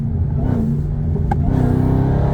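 A Dodge Charger Hellcat Redeye Widebody accelerating in 4th gear, its loud, close, steady low engine rumble filling a short stretch without speech.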